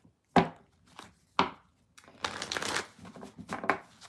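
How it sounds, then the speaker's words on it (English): Tarot cards are shuffled by hand in sharp, riffling bursts: two crisp snaps early on, then a denser run of shuffling toward the end, close and dry with no voice. "After I'm finished shuffling, I will go on to air and then earth."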